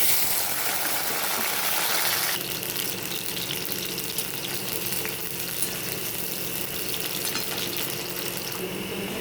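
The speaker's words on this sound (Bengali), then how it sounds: "এখন আমি আলুটা ভেজে নেবো" Potatoes frying in a pan for a Bengali masoor dal and prawn-paste curry, giving a steady, close, fairly loud sizzle with a hiss that drops slightly after two seconds and then runs evenly.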